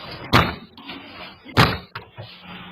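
A burglar kicks a house door during a daytime home invasion, two loud sharp bangs about a second apart with a smaller knock after, over faint background talk.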